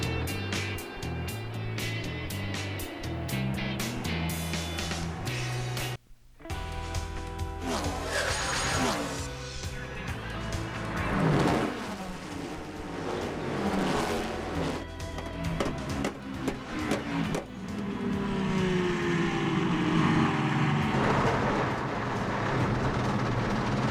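Race cars at the 2008 46th Rolex 24 at Daytona endurance race roar past one after another. Their engine notes rise and fall over roughly half a minute with a brief drop in between, and a busy track-side backdrop sits underneath.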